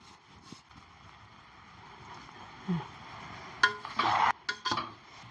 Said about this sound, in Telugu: ఇట్లా మంచిగా కలుపుకున్నాలి మనం